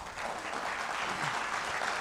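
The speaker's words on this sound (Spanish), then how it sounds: "para quien brindemos nuevamente un fuerte aplauso" Audience at a digital transformation conference applauding the Bamboo Mobile director general after his talk, a full, continuous burst of clapping from many hands filling the room, no speech on top.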